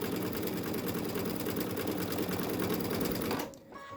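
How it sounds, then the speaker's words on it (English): A sewing machine runs steadily, stitching a quarter-inch seam on a fabric face mask with a dense, continuous whir that stops abruptly near the end. "Just sew right along that seam, 1/4 inch all the way."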